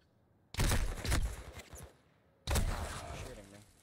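Gunfire in the video game Call of Duty: two loud bursts of rapid shooting, the first running about a second and a half with dense repeated reports and the second starting later and tailing off, heard close and dominant, with no talk.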